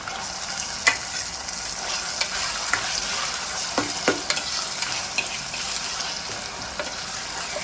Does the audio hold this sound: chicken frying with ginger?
yes